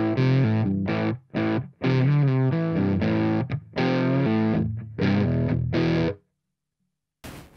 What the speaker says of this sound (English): They sound like Marshalls, they crank like Marshalls, they distort in roughly the same place.